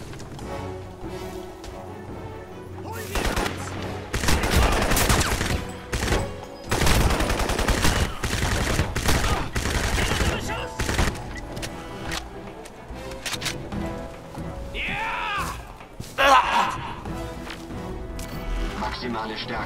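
Bursts of weapon fire in the shooter game Crysis crackle in rapid volleys, loud and intermittent, with someone talking in German between and over the shots.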